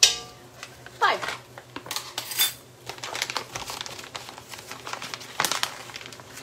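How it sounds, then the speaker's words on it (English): A spoon stirs a pot of mushroom soup with quick, irregular metallic clatters, scrapes and clinks. A few louder knocks stand out from a continuous busy rattle. "we want to be stirring constantly for about 1 to 2 minutes"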